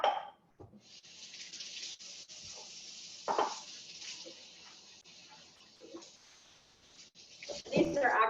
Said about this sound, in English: so we'll start off by washing the potatoes